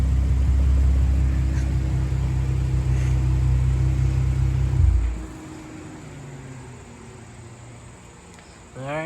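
Exhaust of a 2012 V6 Mustang fitted with a Nxt Step axle-back, rumbling loud and close at steady revs for about five seconds, then dropping to a low idle before a brief rising rev at the end.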